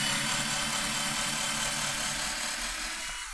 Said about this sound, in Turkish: 3'te başladım şu an delmeyi.